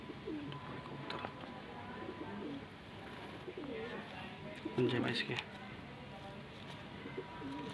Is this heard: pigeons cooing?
yes